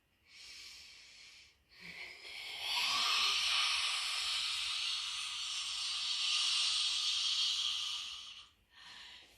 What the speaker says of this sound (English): Okay, that's lion's breath.